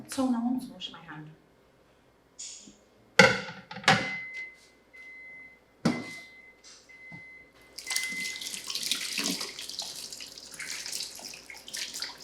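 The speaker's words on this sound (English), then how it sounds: "Turn on the water." Water runs from a kitchen sink tap as a steady hiss through the second half, after scattered knocks and thuds, with talk in the room.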